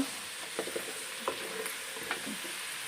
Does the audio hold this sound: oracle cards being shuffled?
no